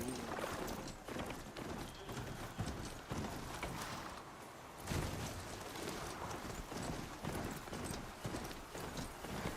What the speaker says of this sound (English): let me just hop on my noble steed here